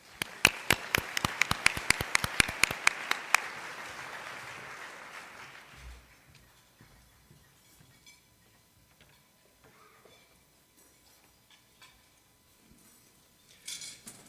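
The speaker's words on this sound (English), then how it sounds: "Please join me in giving all of our sponsors a round of applause." An audience at a San Antonio State of the City address claps for the event sponsors, sharp loud claps at first that thin out and fade into quiet room noise, with a small burst near the end.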